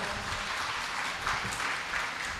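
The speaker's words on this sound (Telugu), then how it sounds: "చప్పట్లు కొట్టండి గట్టిగా" A church congregation claps loudly during a sermon, with a steady wash of applause that holds throughout at fairly close range.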